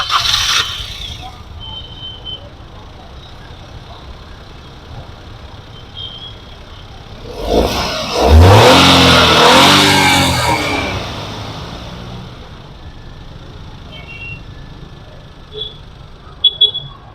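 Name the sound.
Maruti Celerio ZXi AT petrol engine started and running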